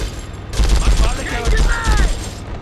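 Gunfire in the video game Conflict: Global Storm, a loud, dense burst of rapid shots that starts abruptly and keeps rolling without a break, heard close and overwhelming the mix.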